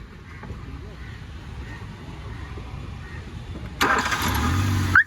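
A 2011 Hyundai i10 Magna petrol hatchback starts on a single crank near the end, a short starter whirr catching into a steady idle after quiet background rumble.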